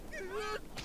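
A chicken in the video game The Sims 4 gives a brief, sharp squawking honk as it attacks, a single rising and falling cry under a second long, with no speech.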